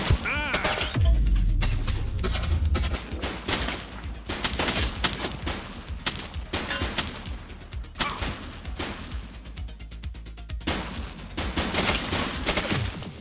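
Gunfire rattles through a shootout in the police video game The Precinct: loud, rapid volleys of shots and bursts that repeat almost nonstop, with sharp cracks layered over a dense battle din.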